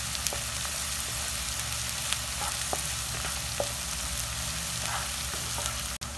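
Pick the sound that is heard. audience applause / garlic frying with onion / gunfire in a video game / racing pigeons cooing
garlic frying with onion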